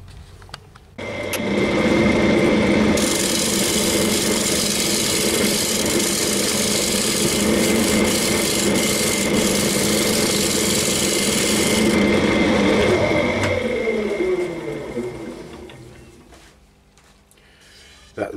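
A woodturning lathe cuts shavings from an old wooden bowl, giving a steady loud rasping scrape over a motor hum for about thirteen seconds before fading and stopping.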